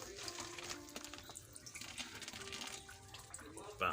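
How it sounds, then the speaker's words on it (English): Water poured to rinse a tank of juvenile catfish during filtration, a faint, uneven splashing trickle with a voice talking over it. "And get some of this water to rinse."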